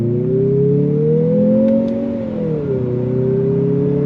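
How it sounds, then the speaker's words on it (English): A 2025 Mazda CX-50 Turbo SUV pulling away hard from a complete stop, heard from inside as a loud, steady engine drone that rises in pitch, dips briefly at a shift, then climbs again. "We're going to come to a complete stop here, and we're going to go on throttle."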